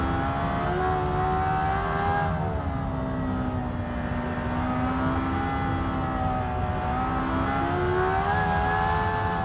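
A tuned van engine in the Automation racing game drones loudly and continuously, its pitch climbing and dipping as the throttle is held on through corners.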